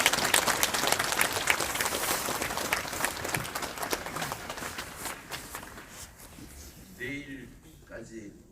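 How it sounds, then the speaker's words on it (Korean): A church congregation at a special early-morning prayer service claps together, a loud sustained burst of applause that fades over several seconds before a voice resumes speaking. "박수 한번 치고"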